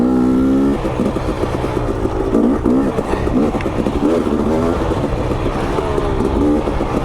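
A KTM 250 XC dirt bike rides downhill over jagged rocks, its two-stroke engine buzzing loud and close, revving up and down in short bursts with a rough, choppy texture throughout.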